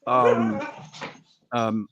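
A dog whimpers and whines in high, tonal cries, one drawn-out whine followed by a short breathy sniff and then a second brief whimper, close and loud.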